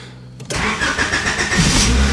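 A 1991 Honda Civic, back on the road after sitting more than ten years, starts up with a brief starter crank, then catches and settles into a loud close idle with a slight rev.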